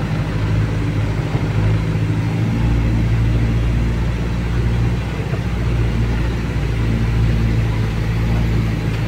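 A 1318 truck with an electronically controlled engine climbing a hill near Manancial Macaíba, held at steady revs, giving a loud continuous droning rumble that barely changes.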